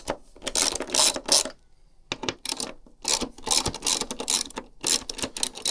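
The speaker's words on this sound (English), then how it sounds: "So we've got 1, 2, 3, 4 T25 bolts to just loosen off first of all." Loosening T25 bolts on a BMW R1300 GSA panel with a ratcheting tool: close, crisp clicking ratchet bursts in repeated runs, separated by short quiet pauses.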